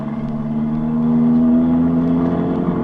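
A taxi cab pulls away fast, its engine drone rising steadily in pitch as it accelerates, close and loud throughout with no voices.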